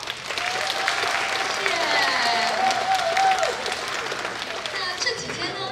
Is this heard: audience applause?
yes